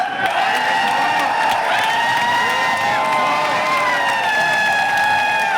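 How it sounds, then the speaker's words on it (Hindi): Loud crowd at a Haryana political rally, with cheering, shouting and applause blended into a steady wall of sound, plus whistle-like tones throughout, continuous for the full stretch. "जोरदार ताली"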